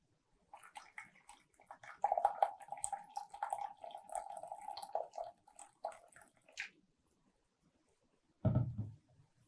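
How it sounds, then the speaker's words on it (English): Water is poured into a container during a school heat lab with a balloon inflation setup, a splashy trickle lasting several seconds before stopping, followed by a short dull knock. "I will add a little bit more water."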